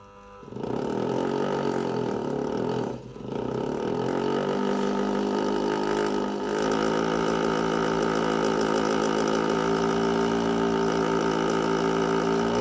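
An electric motor spinning a magnet heating generator builds from a start-up into a steady, loud whining hum with strong tonal overtones, briefly dipping once before running on evenly.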